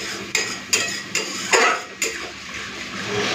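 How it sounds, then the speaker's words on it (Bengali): A spoon scrapes and clanks against a pan as a spice paste of turmeric, chilli powder and Kashmiri red chilli with a splash of water is stirred and fried, with five sharp, evenly spaced metallic knocks over a soft background sizzle. "মশলাটাকে ভালো করে কষে নেব।"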